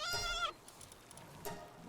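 A sheep-like creature in the video game Palworld lets out a short, bright bleat at the start, followed by softer faint game sounds and a brief second burst, with no talking.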